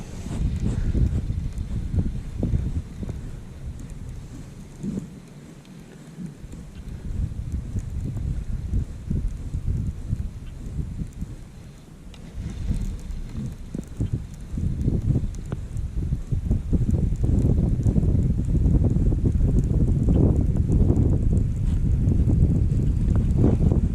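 Cold wind blows at a lake boat landing, a low, gusty rumble buffeting the microphone in uneven waves that ease off for a moment and then build louder and steadier toward the end.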